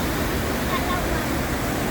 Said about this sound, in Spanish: así que ahora paramos para ver una nueva cascada